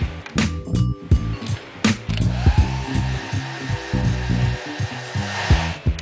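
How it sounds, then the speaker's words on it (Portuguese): A hair dryer whirs steadily, drying paint on a painting between coats, interrupted by knocks, clicks and handling noises as it's moved around. "Aguarde secagem ou acelere com o secador entre uma demão e outra."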